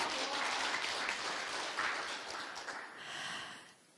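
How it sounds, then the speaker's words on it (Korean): Applause at a Rotary club meeting, a dense wash of clapping from a room of members that holds steady, then thins and fades toward the end, fairly quiet overall. "박수 한번 쳐주세요"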